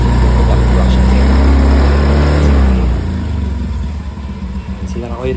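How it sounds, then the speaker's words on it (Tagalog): A Honda Beat Fi V2 scooter engine with a hesitation fault runs at slight throttle, loud and close with a steady low drone that eases after a few seconds into an uneven idle, while someone talks over it. "Hindi ko ginagalaw yung throttle, nakapiga lang ako ng konti sa accelerator."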